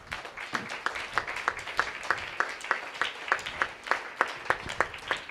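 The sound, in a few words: congregation clapping hands in church worship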